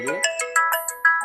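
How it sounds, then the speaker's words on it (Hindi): A mobile phone ringtone goes off in a lecture hall during a health talk, playing a bright melodic sequence of electronic notes in a quick, repeating pattern, fairly loud and alone. "Mishra ji, mobile switch off कर दीजिए महाराज।"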